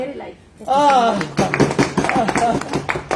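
Audience at a comedy stage appearance by a Bollywood actor in Nepal breaks into clapping, a scattered patter of hands that starts after someone talks and continues under his voice.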